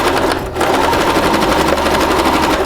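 A sewing machine runs steadily along a bed canopy seam, a fast rattling stitch that is close and loud, with only a brief dip near the start.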